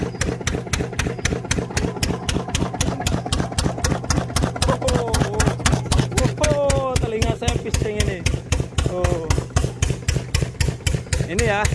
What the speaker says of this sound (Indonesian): Nah ini mesinnya ya, seperti ini mesinnya.